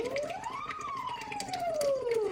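A voice imitates a police siren while blowing through a straw into water, one smooth rising then slowly falling glide with a bubbling buzz underneath, steady and fairly loud.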